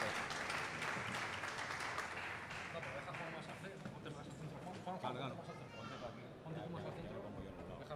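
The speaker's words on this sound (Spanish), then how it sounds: "Démosles un aplauso." An audience claps steadily throughout, a dense patter of many hands with murmuring voices mixed in, fading slightly toward the end.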